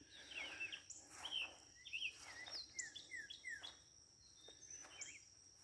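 Birds chirp and trill repeatedly outdoors, bright short phrases overlapping over a soft steady background hum, fairly quiet and somewhat distant.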